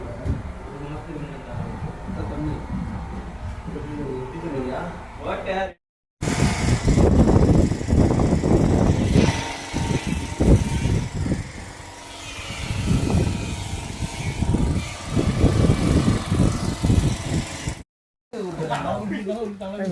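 Loud engine room machinery drones continuously in an enclosed space, a heavy mechanical roar with someone talking over it, briefly cut off twice.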